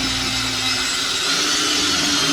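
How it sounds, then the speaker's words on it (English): Power drill boring a hole through sheet-metal ductwork while installing a starting collar on a heating vent, a continuous close, loud whirring grind with no talking. "Drill a hole right through it."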